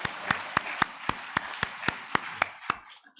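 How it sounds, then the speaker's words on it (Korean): Church congregation applauding during a Thanksgiving Sunday service in Daejeon, about ten distinct claps in a steady rhythm over a diffuse bed of crowd clapping, fading out at the end. "우리 한번 박수 쳐줍시다"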